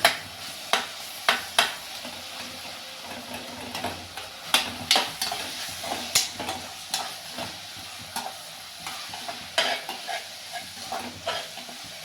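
An onion-tomato masala with ginger-garlic paste for prawn gravy is mashed and stirred in a frying pan, a steady soft sizzle broken by repeated sharp scraping and tapping strokes of the spoon, up close.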